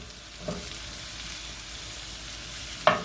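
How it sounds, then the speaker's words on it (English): Quartered mushrooms dropped into garlic sautéing in a pan and stirred, giving a steady close sizzle with two brief louder scrapes and clatters, one early and one near the end. "I'm going to start to add some mushrooms to this and just stir them in."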